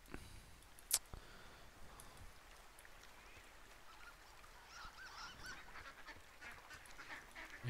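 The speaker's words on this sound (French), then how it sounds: "Il y a des canards." Ducks near water give faint, distant honking quacks over quiet outdoor ambience, with a sharp click near the start.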